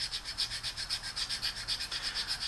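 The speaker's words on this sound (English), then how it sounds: "I sit here for about a minute just sanding it down smooth" A brass tool handle being rubbed smooth against a sharpening stone, a quiet steady back-and-forth rasping stroke repeating evenly, close up and alone.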